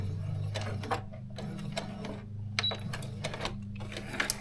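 A sewing machine backstitches the seam of a fabric scrunchie, its needle clicking in short rapid bursts separated by brief pauses, close and fairly loud over a low motor hum.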